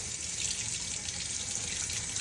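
Cold tap water runs steadily into a sink, a soft continuous splashing hiss heard alone and fairly close.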